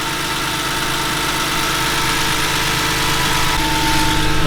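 BMW E46 M3 engine idling on its original rubber engine mounts, a steady loud low rumble with constant vibration, close up and unbroken.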